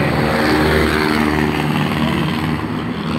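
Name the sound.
motorists passing on Commonwealth Avenue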